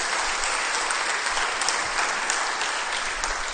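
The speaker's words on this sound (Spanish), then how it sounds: "Dale un aplauso fuerte al Señor." Church congregation applauding loudly and steadily, a dense continuous wash of many hands clapping with no talking.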